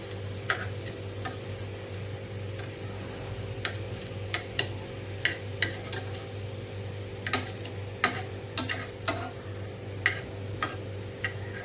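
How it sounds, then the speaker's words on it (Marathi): Potato slices fry in a pan with a continuous sizzle, broken by regular sharp clicks and taps of a utensil turning them, some steady low hum underneath and no talk. "आता दुसऱ्या साईडने असे फ्राय करून घ्यायचे आहेत."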